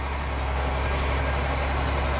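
A farm tractor engine runs steadily at idle during corn and hay harvest, a constant low heavy drone with no voices.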